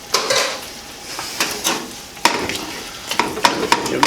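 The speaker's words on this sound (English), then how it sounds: "Give this a stir." Butter melting in a pan for a pork sausage gnocchi bake, stirred with a spoon that knocks and scrapes against the pan in irregular bursts over a soft, continuous sizzle.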